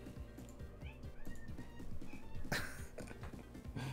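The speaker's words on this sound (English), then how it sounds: "I hear a cat." A cat meows somewhere near a streamer playing Magic: The Gathering Online, its short cries rising amid cluttered background sound and game noise, with a louder burst midway.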